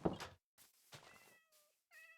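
A cat meows several times in the Minecraft video game, short rising and falling cries close by, with brief gaps between them.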